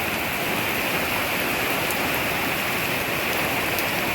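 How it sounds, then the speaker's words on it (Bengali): Heavy rain pours down in a dense, unbroken hiss that stays loud and even throughout. "কখন যে বৃষ্টি থামবে আল্লাহ পাক জানে।"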